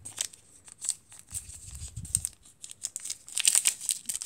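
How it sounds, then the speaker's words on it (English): Crinkling, tearing plastic of a 2017 Topps Chrome trading card pack wrapper being ripped open, close and fairly loud, in irregular bursts with a denser flurry of rustling near the end. "Sorry about all the crinkling. But to me, I love that sound because that means I'm ripping cards."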